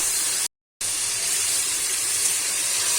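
Tomato paste sizzling and frying in a pan for paneer masala, a steady bright hiss with a brief silent gap near the start, no talk.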